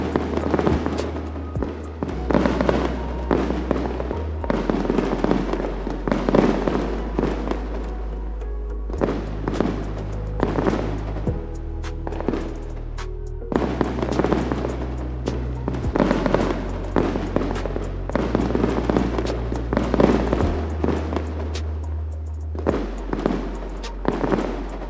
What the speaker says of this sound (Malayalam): ഞാനിതാ ഷെഫീഖാൻ്റെ ഷോൾഡറിൽ ഇരുന്നിട്ട് കേട്ടോ ഞാൻ പകുതി മുക്കാൽ ഫയർ വർക്ക്സും കണ്ടത